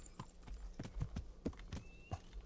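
Horse hooves clip-clopping at a steady walking rhythm inside the medieval open-world game Kingdom Come: Deliverance, fairly close and distinct, with no talk over them.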